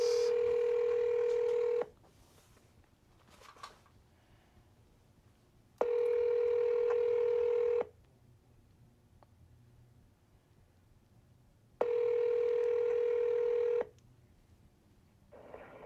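An outgoing phone call rings on speakerphone: three long, even ringback tones, each about two seconds, separated by roughly four seconds of near silence.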